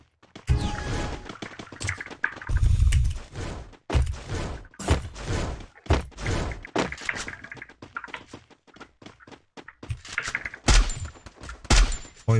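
Rapid bursts of video game gunfire, sharp cracks and rattling volleys, come in clusters with short pauses between them, loud and close.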